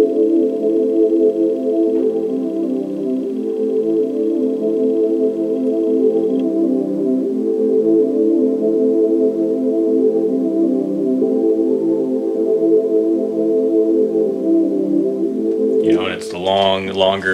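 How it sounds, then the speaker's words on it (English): Chopped synth pad sample named Heartbreak Pad forms a song intro, holding a steady, warm sustained chord for around sixteen seconds before a short burst of brighter, busier sound cuts in at the end. "I had this, it was called the Heartbreak Pad"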